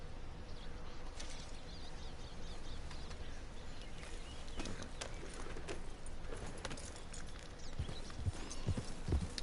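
Horse hooves clip-clop in a PS4 video game, a steady trotting rhythm over a dense, busy game soundscape with faint jingling tack and birds.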